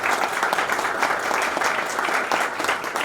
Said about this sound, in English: Now I would like one huge applause for all our panelists.